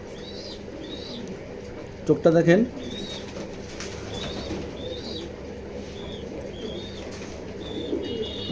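Soft pigeon coos and small chirps repeat through a loft, with a brief flurry of wing flaps and someone speaking briefly over them.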